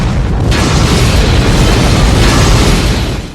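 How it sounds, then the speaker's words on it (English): Explosions in an action-film scene with SWAT vehicles hit by rockets make a loud, dense, continuous roar of blasts and rumbling, sustained with no gaps. "lots of explosions were utilized"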